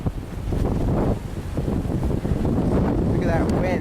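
Strong wind roars steadily across the microphone during a snow storm, a loud, continuous buffeting rush with a faint voice under it.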